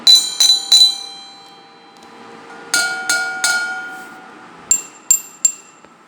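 A metal object is struck three separate times, each a sharp ringing clink with a short bright tone that fades quickly rather than sustaining like a temple bell. The strikes come in three clusters of two or three close hits, with no talk.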